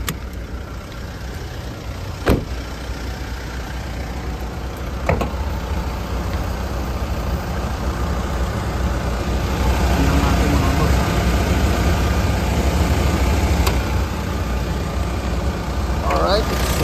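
A Mitsubishi Montero Sport diesel engine idles with the hood open, a steady, even rumble that runs throughout, with a couple of brief knocks on top.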